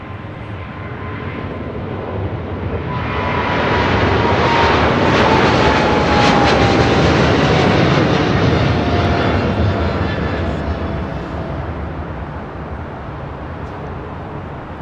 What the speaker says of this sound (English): We have the 777 freighter now rolling on 25 left.